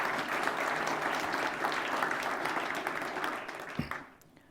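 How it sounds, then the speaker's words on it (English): A conference audience applauds the organizers with dense, sustained clapping across a large hall, steady and full before tapering off into quiet at the end. "Please give a round of applause to all the organizers."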